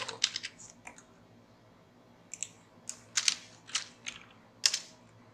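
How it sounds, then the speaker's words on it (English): Computer keyboard keys are pressed in short separate clicks and small bursts, close and fairly quiet, with brief pauses between groups of keystrokes and no one speaking. "Select the shapefile and press F2 on your keyboard"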